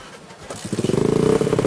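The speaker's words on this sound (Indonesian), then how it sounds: "sejumlah motor kedapatan memasang knalpot racing yang biasa digunakan untuk kebut-kebutan" A nearby motorcycle fitted with a racing exhaust revs up, its loud exhaust rising into a rapid pulsing rattle.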